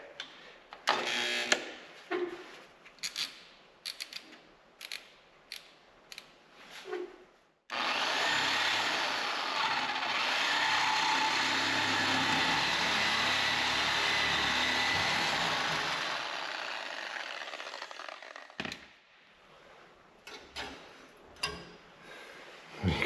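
A saw fitted with a wood bimetal blade cuts for roughly eleven seconds in one continuous, loud, rasping stroke, preceded and followed by scattered clunks and handling knocks.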